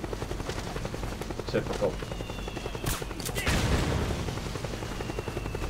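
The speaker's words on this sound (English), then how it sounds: "Random fire from the helicopter almost hitting me." Helicopter gunfire in Metal Gear Solid 4, a steady rotor drone with bursts of shots landing close by, growing louder and denser near the middle, under a short spoken remark.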